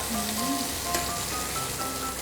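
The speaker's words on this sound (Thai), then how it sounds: "แล้วก็ผัด" Food is stir-fried in a pan, sizzling and crackling continuously close up, with occasional scraping as it is turned and no voices.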